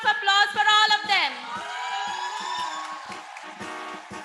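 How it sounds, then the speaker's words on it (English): At a school investiture ceremony, an audience whoops and cheers. Loud rising vocal shouts come first and settle into sustained cheering, with scattered sharp claps beneath. "A huge round of applause for all of them."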